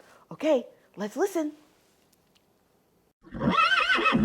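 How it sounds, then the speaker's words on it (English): A horse neighs loudly and close in a long, wavering whinny near the end, after a brief spoken line earlier in the clip. "Yes, it's a horse."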